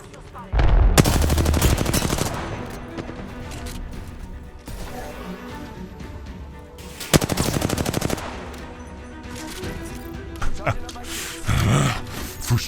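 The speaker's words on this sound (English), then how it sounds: "the spine-tingling crescendo of a charge rifle" A charge rifle fires in the shooter game Apex Legends with loud, sustained roaring bursts: one near the start and another about two-thirds through, separated by quieter rumbling game noise.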